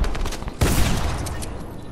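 A loud, close gunshot blast in Fortnite, the headshot hitting with a sudden broadband crack amid ongoing game noise, its rumble trailing off over the next second.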